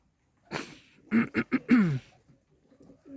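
A few soft throaty coos from pigeons close by, in short bursts with brief pauses, otherwise quiet.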